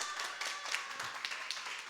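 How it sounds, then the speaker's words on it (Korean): Applause from a church youth group gathering during a Sunday service, heard as a dense wash of many hands clapping together, steady and moderately distant, with a few sharper individual claps standing out. "박수로 한번 불러주세요"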